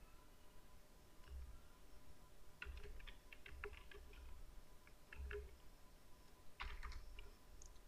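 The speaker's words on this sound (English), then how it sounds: "Now type your signature body." Quiet typing on a computer keyboard while entering an email signature in Outlook, small clusters of soft key clicks separated by pauses, faint over a low steady hum, with no one speaking.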